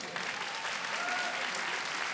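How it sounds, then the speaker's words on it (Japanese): Arena crowd applauding after a boxing match TKO victory, with broadband clapping held steady at full level for the whole stretch, no voices breaking through. "盛大な拍手を"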